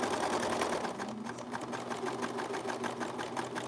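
A sewing machine stitches a knit neckband, running as a steady, close, continuous whir with a rapid regular needle rhythm throughout, no talking.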